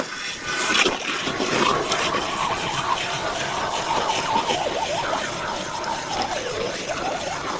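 Water rushing up through a freshly drilled hole in river ice, a steady close gushing and gurgling wash that runs continuously at fairly high volume, with no talking.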